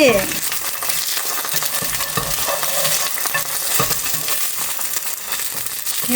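Eggs frying in a pan give a dense, steady sizzle that stays loud and close throughout, with faint scraping and stirring underneath and no talk.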